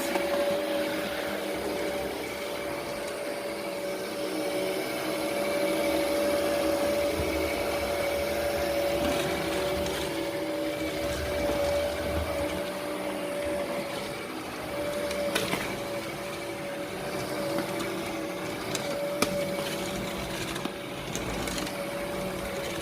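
Hizero floor cleaner running steadily while cleaning a floor, a continuous motorized hum and whir with faint scrubbing noise, close and even throughout.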